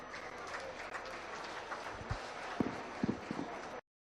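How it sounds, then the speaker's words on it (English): Applause for a youth group at a livestock swine show, a short burst of quiet clapping from a small crowd in an arena, ending abruptly. "Let's make sure they have a nice round of applause"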